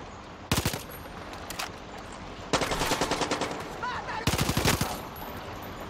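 Enemy automatic gunfire in Far Cry 6, heard as three loud rattling bursts of rapid shots separated by quieter gaps, with a continuous low backdrop of game ambience.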